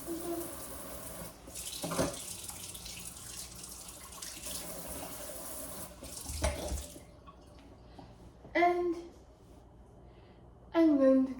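A kitchen tap runs while dishes are rinsed, a steady hiss of flowing water broken by brief splashes and clatters, with the flow cutting off and restarting near the end.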